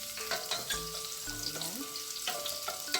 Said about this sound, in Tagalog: idagdag at isautay natin yung ating garlic